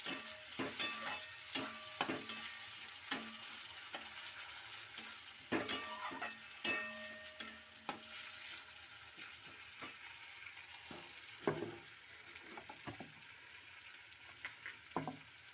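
Chopped tomato sizzles and fries with spices in a pan, a soft steady crackle punctuated by repeated sharp taps and scrapes of a spatula, close but fairly quiet.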